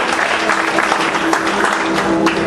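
Brisk applause from a church congregation, steady and sustained throughout with a slightly irregular clatter of many hands.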